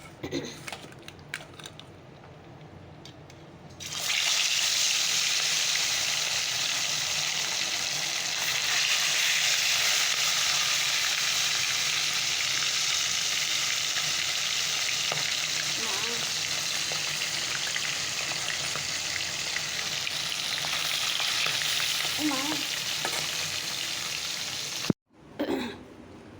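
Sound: fish frying in a pan

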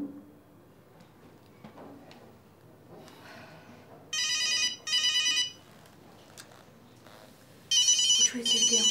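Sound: telephone ringtone ringing

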